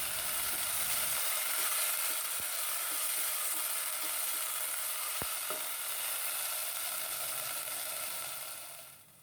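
Steady, loud sizzling of chicken frying in a hot pan, continuous throughout with a couple of faint clicks, fading slightly at the end.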